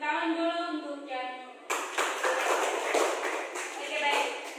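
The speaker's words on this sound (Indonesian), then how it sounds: "tepuk tangan dulu untuk yang" A classroom of students claps their hands together after a brief stretch of talk, the dense, even clatter of many palms filling the room and carrying on steadily until the end.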